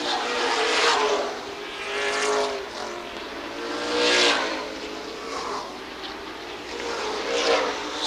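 Race cars in the 1999 Bud Big 6 championship feature drone and surge past with engines rising and fading in repeated passes, a moderately distant roar with no clear talk over it.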